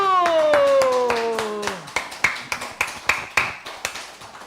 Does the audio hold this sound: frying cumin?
no